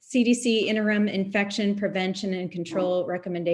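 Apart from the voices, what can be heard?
None of the usual background noises is heard.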